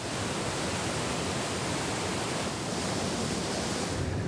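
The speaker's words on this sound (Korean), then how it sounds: "시원한 물줄기가 힘차게 쏟아지는 다리안 계곡" Water pouring strongly down a stream in Darian valley, a steady dense broadband rush with no breaks, loud and close.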